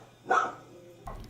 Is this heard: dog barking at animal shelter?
yes